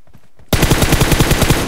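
Loud, close automatic gunfire in PUBG Mobile bursts in after a half-second of quiet, a rapid, even stream of shots running to the end.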